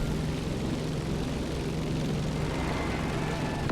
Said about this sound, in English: Let's start our descent and get ready for the landing.